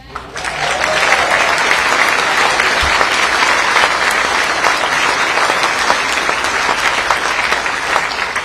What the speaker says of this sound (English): You can't applaud the Declaration of Independence